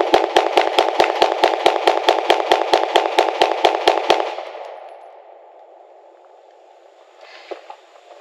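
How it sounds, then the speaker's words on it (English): Rapid pistol fire from a SIG P365-FUSE: about sixteen sharp, evenly spaced shots in quick succession, loud and close, followed by a fading ring and near quiet. "That was my first two mags ever through a P365."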